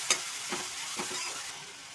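Ground cumin and coriander powder frying in a hot pan, giving a steady broadband sizzle with a few soft stirring scrapes and no voices.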